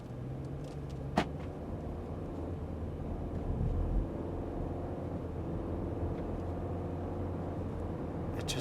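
A 2014 Audi A4 drives steadily with a low engine rumble and road noise, the automatic transmission shifting briefly partway through before settling back into a smooth cruise.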